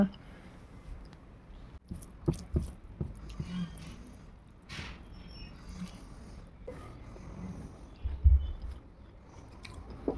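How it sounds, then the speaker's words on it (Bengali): Someone eating a meal of fish curry at close range, with soft wet chewing and occasional bites, some clicks and clinks, and brief low voices in between. "আমি এখন খেতে বসে পড়েছি"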